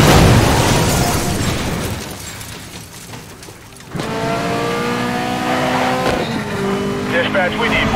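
Racing car engines roar in a police pursuit in the video game Need for Speed Most Wanted, featuring an Alfa Romeo Mito QV, with loud sustained engine drone, rising revs and a sharp burst midway, under police radio chatter.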